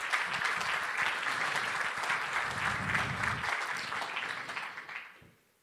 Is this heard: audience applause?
yes